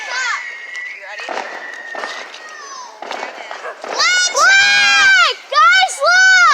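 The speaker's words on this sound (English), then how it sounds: "Mom's doing firework!" Fireworks set off outdoors by a family, with crackling bursts and whistling, screeching tones rising and falling near the end, while excited children shout and chatter throughout.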